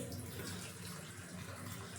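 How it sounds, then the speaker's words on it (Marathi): Water trickles gently over an indoor bamboo plant as it is hand-rinsed, a soft, steady splashing flow with no talk. "याला बारीक असं थोडं पाण्याने स्वच्छ करते"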